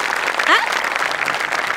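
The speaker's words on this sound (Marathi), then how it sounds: "तर मंडळी जोरदार टाळ्या" A studio audience at a Marathi comedy stage show claps in a short burst, with a voice or whistle rising briefly over it.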